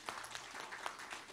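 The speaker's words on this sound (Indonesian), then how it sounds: "Tepuk tangan bagi Raja kita." Congregation clapping hands during a church worship service, soft rhythmic claps at a steady pace, faint and distant.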